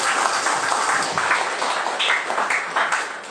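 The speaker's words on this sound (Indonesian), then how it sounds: "Tepuk tangan untuk PMIK." Audience applause at a stand-up comedy competition in Central Java, Indonesia, a crowd of hands clapping steadily and densely for a few seconds at fairly close range.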